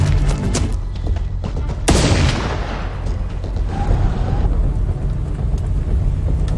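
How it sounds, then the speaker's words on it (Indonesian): Heavy gunfire in a film erupts in a dense, booming barrage, with a sharp loud blast near the start and continuous rumbling shots and echoes that follow. "Sen dihujani tembakan oleh mereka"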